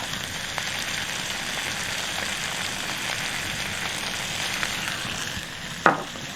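Onion and garlic fry in a pan with a steady, close crackling sizzle that holds evenly throughout, crisp and fairly loud, with one sharp knock near the end.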